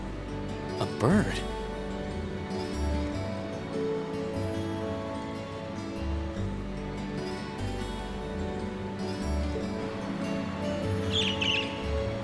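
A bird gives a couple of short, bright chirps, one near the start and another near the end. Steady background music and ambience continue throughout.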